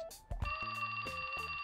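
A mobile phone ringtone from the video game 428: Shibuya Scramble, a steady electronic trill with bright sustained tones, fairly loud and close, with faint low musical notes underneath.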